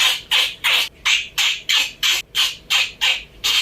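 Parrots squawking loudly and close by in a run of about eleven harsh, evenly spaced calls, with no other sound between them.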